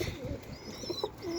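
A mated pair of pigeons cooing softly and close by, a few low throaty coos and a rising call over quiet background hiss.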